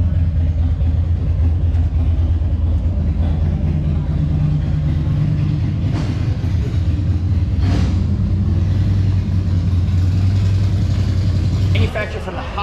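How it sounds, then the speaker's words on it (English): A tiny single-seat 1981 High Mileage Vehicles Freeway fiberglass car runs at a classic car auction with a steady low engine rumble throughout, loud and continuous, with a brief shift near the end; possible voices faintly underneath. "You have to check out this 1981 Freeway."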